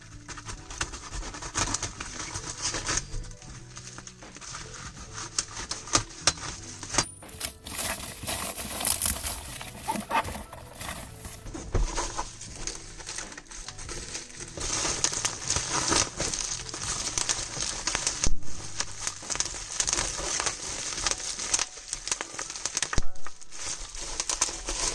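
Wrapping paper crinkles and tears as it is peeled from a Balenciaga sneaker box, a close, continuous rustle with sharper crackling rips scattered throughout and no speech.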